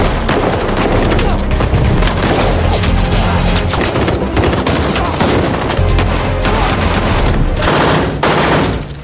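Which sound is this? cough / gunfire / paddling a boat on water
gunfire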